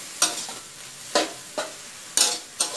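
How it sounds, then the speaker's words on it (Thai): Fiddlehead fern and minced pork are stir-fried quickly: five sharp bursts of tossing and sizzling ring out at irregular intervals over a low steady hiss of hot oil. "ผัดเร็วๆแล้วก็เสร็จแล้วค่ะ"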